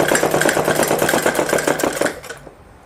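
A sewing machine runs a quick burst of stitches along the top of a folded fabric edge on a small girl's frock, a close, rapid rhythmic chatter that slows and stops near the end.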